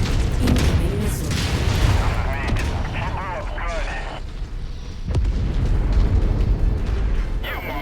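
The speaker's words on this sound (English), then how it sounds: "Incoming missile." A missile explosion in the Crimson Crusade video game, a heavy boom amid gunfire and rumbling battle noise, with a voice talking over the loud mix.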